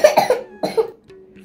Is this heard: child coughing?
yes